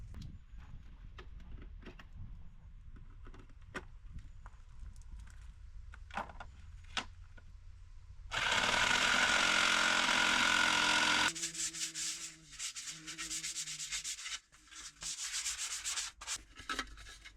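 A jigsaw cuts cupboard panels for a camper van build, first as quiet scattered knocks and handling, then a loud sustained buzzing cut of about three seconds, followed by an intermittent rasping whir with a lower motor hum.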